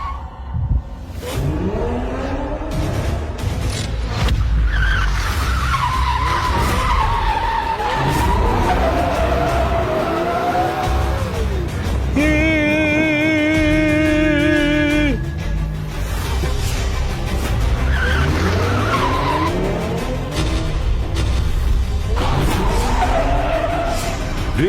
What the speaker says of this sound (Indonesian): Drift sempurna. Tikungan yang sempurna.